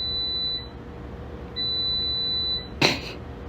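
An air fryer beeps as a Hot Pocket finishes cooking: two long, steady high-pitched beeps separated by a short pause, over a low room hum, with a brief noisy clatter at the end.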